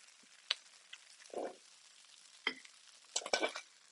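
Occasional scrapes and clacks of food being stirred with rubber-tipped tongs in a frying pan, with a faint sizzle underneath and quiet gaps between movements.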